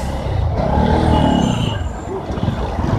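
A Bajaj Pulsar NS200 motorcycle rides through dense traffic, its engine a steady drone blended with the wash of surrounding vehicles and road noise, continuous and fairly loud throughout.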